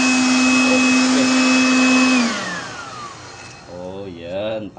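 A 2-in-1 vacuum blower tool runs with a loud steady whine, then winds down as its pitch drops; a voice speaks over the fading motor near the end.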